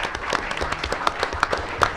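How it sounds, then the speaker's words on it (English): A crowd applauds at a Murray State community event, a dense, steady patter of many hands clapping at a moderate distance. "I want to give you a round of applause"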